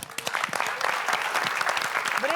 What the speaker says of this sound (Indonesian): Baik, kita beri tepuk tangan.